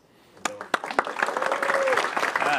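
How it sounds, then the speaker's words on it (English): Audience applause at a Las Vegas startup pitch event starts with a few sharp claps and swells into a steady round of clapping, with some voices and a whistle-like tone mixed in. "Please give a round of applause."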